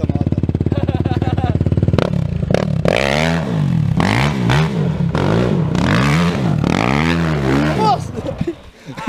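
A Kawasaki LTR 450 quad bike engine revs loudly close by, with people shouting and talking over the droning motor.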